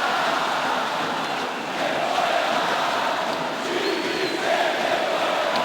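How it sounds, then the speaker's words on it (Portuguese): Flamengo football fans fill a stadium with a steady, massed roar of chanting and cheering, a dense wash of crowd noise heard from a distance without pause. "Ouça a torcida do Flamengo."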